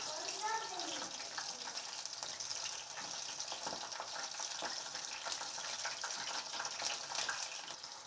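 Chicken pakoras fry in hot oil with a steady, continuous sizzle and crackle that holds at an even, moderate level from start to finish, with no clear talk over it.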